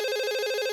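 A cartoon telephone rings with a steady, bright electronic trill, a brief, clean and continuous tone with nothing else heard.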